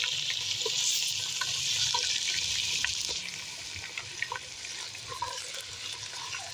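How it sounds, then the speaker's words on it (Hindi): Chicken frying with browned onions in a pan for karela gosht, a steady loud sizzle with stirring scrapes and small clicks of a spoon, easing slightly in the second half. "अब इसको भी फ्राई करेंगे, ठीक है, प्याज के साथ।"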